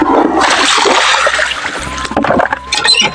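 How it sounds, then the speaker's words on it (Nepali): Water gushes loudly into a basin for soaking clothes, a close, continuous splashing rush that later turns into uneven sloshing and trickling. "बाटामा चाहिँ म पानी भर्छु पहिला।"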